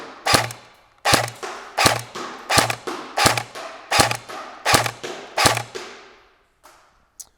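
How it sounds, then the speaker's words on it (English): A Magpul PDR-C airsoft gun firing single semi-automatic shots, nine sharp close cracks at an even pace about every two-thirds of a second, each followed by a short mechanical ring, then a couple of faint clicks. "Half trigger pull does a semi-auto, like a single shot for every pull"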